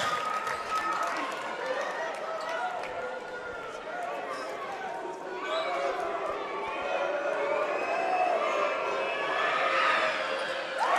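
A crowd at a high school girls' basketball game grows loud and cheers steadily, a dense roar of voices under continuous commentary.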